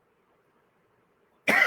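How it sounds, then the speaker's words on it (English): A single harsh, loud cough bursts out at close range from a lecturer with a bad cough, ending a stretch of near silence. "I'm sorry my cough is really bad"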